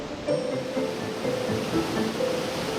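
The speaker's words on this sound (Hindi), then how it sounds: "नदी अभी भी हमारे साथ साथ बह रही थी। बहाव का शोर बहुत अधिक था" Loud mountain river rushing along a Himalayan trail on the Manimahesh pilgrimage, a steady broadband roar of flowing water close by, continuous with no pauses and no voices.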